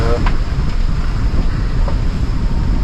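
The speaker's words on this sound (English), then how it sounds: "See, it's really quite windy, isn't it?" Strong wind at sea aboard a sailing boat buffets the microphone in a constant roar, with water rushing and sloshing beneath it, loud and close.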